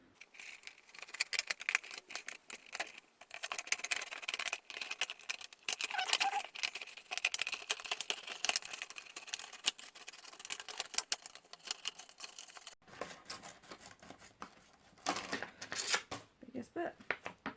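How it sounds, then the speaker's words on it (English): Small scissors snipping material for a mini top hat at close range, a run of quick crisp cuts and rustles that pause briefly before more snipping, with quiet talk at times. "Let's try the little scissors."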